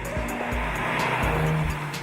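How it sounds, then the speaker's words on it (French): A 2014 Volkswagen Golf R accelerates, its engine pulling strongly with a steady, full roar that holds throughout the brief stretch, without any talk. "Le moteur relance très facilement à bas régime et monte sans s'essouffler dans les tours."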